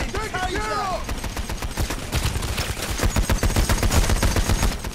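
Rapid video-game gunfire in Payday: The Heist, dense bursts of automatic shots rattling loudly and continuously, with a brief voice-like cry near the start.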